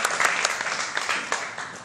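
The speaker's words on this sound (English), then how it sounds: "Let's have a round of applause for that." Audience applause at a science festival talk show, steady dense clapping from a live crowd with a few sharper claps standing out.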